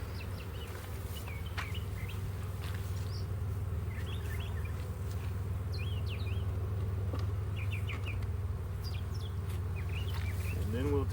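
Honey bees drone steadily from an open hive during a spring inspection, with a constant low buzz close by and a few bird calls chirping in the background.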